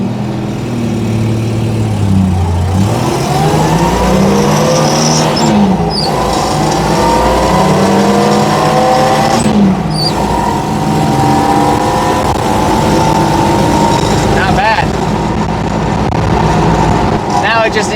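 A car fitted with a stainless-steel exhaust revs hard and accelerates, its loud, close engine note climbing and sweeping through repeated throttle pulls that run steadily for the whole stretch.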